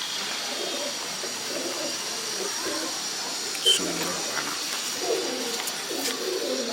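Soft, low cooing of pigeons repeats under a steady background hiss, with a few faint clicks and a brief flutter midway.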